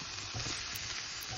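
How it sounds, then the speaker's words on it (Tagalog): Beef steak sizzling in a grill pan, a steady dense hiss of frying fat that holds close and even for a second and a half with no voices. "Mayroon kaming steak dito, ay kaya luto natin sa grill pan mga kaibigan."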